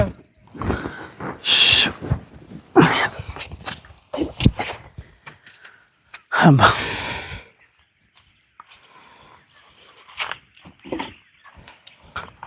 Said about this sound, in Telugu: నెమ్మల కొల సౌండ్ పక్షుల సౌండ్లు గట్టిగా వచ్చేస్తున్నాయండి